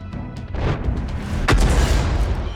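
A 105 leFH18B2 artillery gun fires in World of Tanks on the Steppes map, giving one heavy boom with a long rumbling tail over steady game noise.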